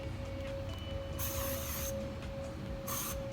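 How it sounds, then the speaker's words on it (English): Two short hissing bursts of thermal spray from a pump bottle land on hair, close by, with quiet moments between them and a faint hum under it all. "I'm gonna spray with my thermal spray again."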